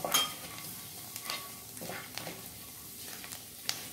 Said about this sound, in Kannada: ಬೆಳ್ಳುಳ್ಳಿ ಮತ್ತು ಸ್ವಲ್ಪ ಕರಿಬೇವು। ಹಾಕಿ ಸ್ವಲ್ಪ ಫ್ರೈ ಮಾಡಿ